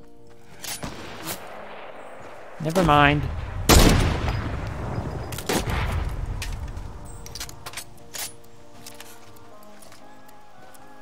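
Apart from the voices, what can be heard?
gunfire at player in arena video game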